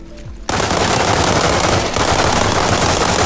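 An M416 rifle fires in the video game World War 3, a loud, continuous automatic burst that starts abruptly after a short quiet moment and keeps hammering without pause.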